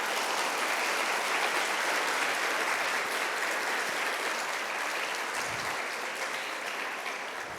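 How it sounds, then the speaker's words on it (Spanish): A church congregation applauds the Lord in sustained, dense clapping that fills the whole stretch, loud and steady before easing slightly toward the end. "Denle un aplauso al Señor."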